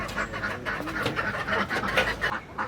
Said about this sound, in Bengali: বন্ধুরা, এটা করকনাথ মুরগি।